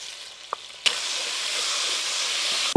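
Whole unpeeled garlic cloves frying in about half a cup of soybean oil, a loud, steady close sizzle and hiss that rises after a sharp clack, with a small knock just before.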